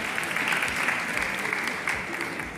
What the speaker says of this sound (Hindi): सभी तालियों से हमारा अतिथियों का स्वागत करें।